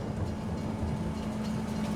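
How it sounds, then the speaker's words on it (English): Train arriving in Farming Simulator 22 on the Elmcreek map, a steady low rumble and rolling clatter of rail cars, with no talk. "Here comes the train, and we can hop into it."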